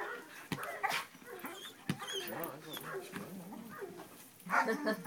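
A 15-month-old Belgian Malinois working on a bite suit gives whimpers, yips and short barks, close by and mixed with people talking and handling noise throughout.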